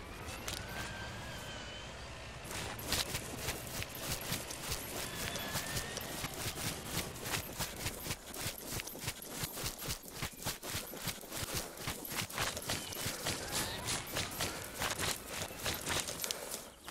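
Horse hooves clopping in the video game Escape Podagorsk, a steady run of rapid, evenly spaced hoofbeats close up and fairly loud, lasting through most of the stretch alongside some faint background game noise.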